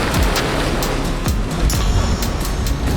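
A boat crashes through large standing ocean waves off Australia's north west, with loud, close rushing water and repeated thumping impacts as the hull drops off the swells.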